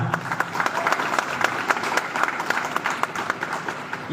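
Applause from college students in an auditorium audience at Loyola College, Thiruvannamalai, a dense steady clapping that holds loud and close throughout.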